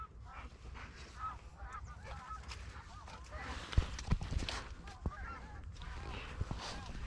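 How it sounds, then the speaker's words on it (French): Geese honk repeatedly at a distance over outdoor background noise during a migratory bird hunt, with a few sharper knocks and thumps in the middle. "Les oies sont posées dans le setup"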